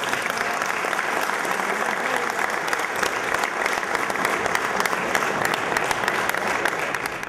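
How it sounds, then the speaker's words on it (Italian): A crowd at a press conference breaks into steady, sustained applause for the mayor, many hands clapping evenly and loudly for the full stretch with a faint murmur of voices underneath. "Ma glielo vogliamo fare un applauso a sto sindaco che ci fa una foto."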